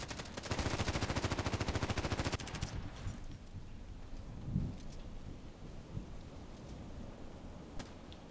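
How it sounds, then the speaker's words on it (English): A loud, fast burst of automatic gunfire in a shooter video game lasts about two seconds and is followed by a quieter stretch with distant thuds and scattered single shots. "I wonder why he can still shoot at me."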